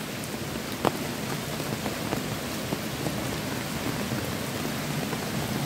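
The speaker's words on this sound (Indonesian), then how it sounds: "hujan sampai begini ya" Heavy rain pouring down outdoors near a rural footpath and small stream, a dense steady hiss of drops with occasional sharper splats and no speech.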